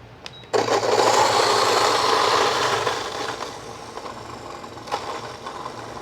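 A Fellow Ode coffee grinder starts abruptly and grinds beans with a fast, steady whirring roar that gradually softens toward the end, heard close with no talking.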